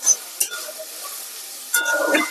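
A spoon scrapes and stirs through carrots, beetroot and potatoes frying with salt and turmeric, with short clinks and a soft steady sizzle between strokes.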